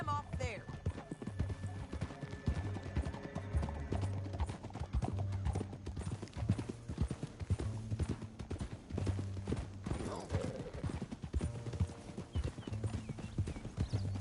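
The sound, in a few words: horse hooves galloping in a video game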